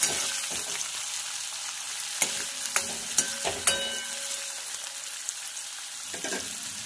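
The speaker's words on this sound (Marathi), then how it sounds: "यानंतर आपल्याला घालायचा आहे कांदा आणि छानपैकी असं फ्राय करून घ्यायचं आहे" Onion frying in oil with mustard seeds for upma, a close crackling sizzle with several sharp spoon scrapes and taps against the pan in the middle.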